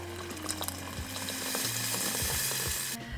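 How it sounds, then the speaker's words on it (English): Kimchi jjigae ingredients fry in a pan with a steady close sizzle, a few stirring scrapes, and then boiled water poured in near the end. "Now I'm just gonna let this fry for another minute or two."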